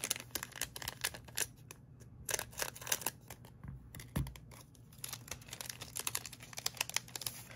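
Scissors snip open a Korean Pokémon 151 booster pack, giving soft, close crisp cuts mixed with faint crinkling of the foil wrapper in a quiet room.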